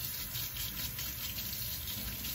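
Hot water running from a tap to rinse a spray gun filter clear, a steady rushing gush that continues unbroken, fairly close with no talk over it.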